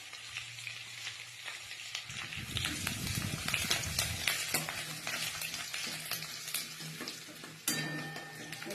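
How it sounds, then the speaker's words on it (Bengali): Finely chopped garlic frying in oil in a pan, with a continuous crackling sizzle and intermittent stirring scrapes that swell and fade, plus a sharp clink near the end. "এই রসুনটা লাল লাল করে ভেজে নেব।"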